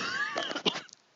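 A sick person coughs and clears their throat in a brief, close, rough burst of a few hacks, fading into quiet at the end.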